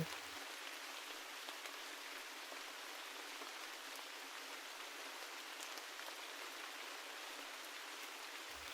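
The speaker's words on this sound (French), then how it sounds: "le son apaisant de la pluie" Steady, even rain patters down softly and continuously, a smooth unbroken hiss of drops on surfaces with no voices.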